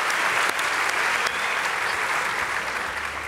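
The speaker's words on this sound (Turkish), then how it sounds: "Keş ve İrem'i bir kez daha tebrik ediyoruz ve alkışlarla uğurluyoruz." Dense, steady studio audience applause on the Turkish talent show Yetenek Sizsiniz Türkiye after an animal act, filling the whole few seconds at an even level.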